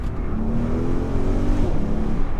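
A 2020 Audi RSQ8 engine revs up under acceleration on a road, its pitch rising steadily over a continuous road roar, heard from inside the vehicle.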